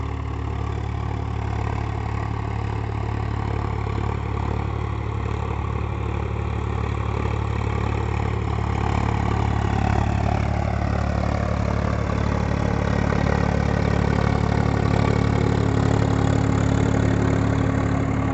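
A Swaraj 744 XT tractor engine runs with a rotavator attached, giving a steady, loud, unbroken drone at constant speed throughout, with no voices.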